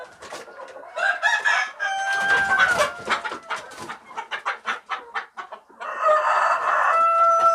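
KUB-2 native village chickens cluck and crow close by, with a rooster's drawn-out calls mixed with rapid, choppy clucking from several birds in a loud, busy run.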